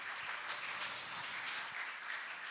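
An audience at a reading program launch ceremony gives sustained applause, a soft, even wash of many hands clapping together from a distance.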